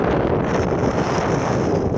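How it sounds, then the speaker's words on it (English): Strong wind on an Appalachian Trail mountain top roars and buffets the microphone continuously, a dense rushing noise with no other sounds. "It's pretty windy up here"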